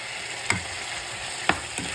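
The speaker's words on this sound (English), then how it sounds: "Let's give this a stir." Pumpkin and saltfish cooking in a pot give a low background sizzle, broken by three sharp scrapes of a spoon stirring against the pot, close and distinct.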